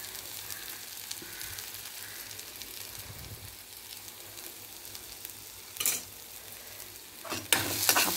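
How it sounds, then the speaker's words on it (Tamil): Mango rice ingredients being sautéed with salt in a pan give a steady soft sizzle and stir. A couple of louder scraping bursts rise near the end, with no voices. "இது கொஞ்சம் உப்பு போட்டு நல்லா வதக்கிடுங்க."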